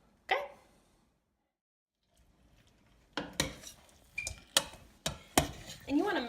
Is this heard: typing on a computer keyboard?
no